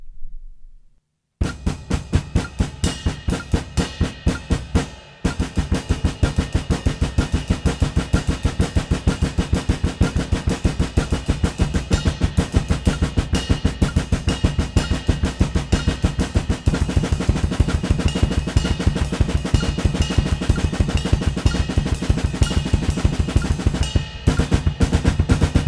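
A drum kit plays a rapid 16th-note triplet blast beat that opens from a hammer blast, a dense, loud, continuous machine-gun barrage of kick, snare and cymbals running almost unbroken after a brief pause near the start.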